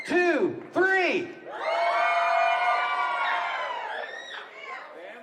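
A live block-party audience screams and cheers for a contestant pair in a loud, sustained burst with high whoops rising over the crowd roar, following a couple of sharp shouted calls.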